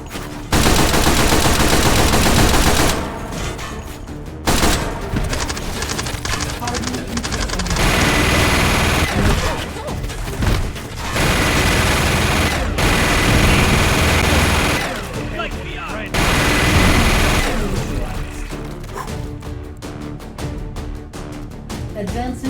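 Sustained, extremely loud minigun fire in the VR shooter H3VR plays as long continuous buzzing bursts separated by brief pauses, with a voice talking during the gaps.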